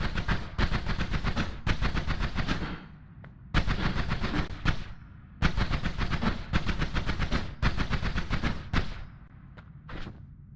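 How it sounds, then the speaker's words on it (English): Rapid spell shots in the video game Noita: loud bursts of fast, crackling shots in several clusters a second or two long, separated by short pauses, with a couple of lone pops at the end. "That's 7 really fast shots in a row before tanking the mana all the way"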